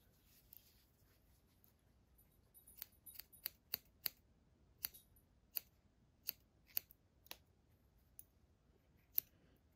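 Small scissors make sharp, crisp snips as they trim the fur on a needle-felted Yorkie figure. About a dozen cuts come at an uneven pace, close but quiet, against a hushed background.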